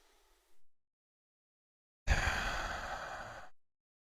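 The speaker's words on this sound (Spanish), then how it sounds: "una breve pausa y vuelvo a inhalar." Conscious breathing exercise: a short soft inhale, a pause of silence, then a long audible exhale lasting over a second, close to the mic and alone.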